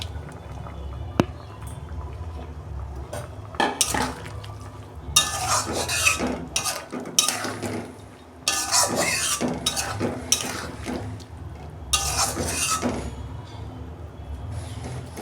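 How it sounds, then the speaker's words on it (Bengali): Eggplant and bitter gourd go into a simmering pot with potatoes and water and are stirred, giving repeated bursts of scraping and clattering utensil strokes over a low bubbling background, close and fairly loud. "আমি বেগুন আর উচ্ছেটা দিয়ে দিচ্ছি"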